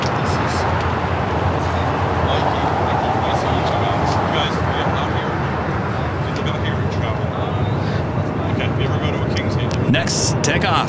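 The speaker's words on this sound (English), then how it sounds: "LAX, takeoff. Heading to JFK." A JetBlue airliner taking off at LAX bound for JFK, a steady, loud broadband roar of engine and rushing air that holds throughout, with people talking over it.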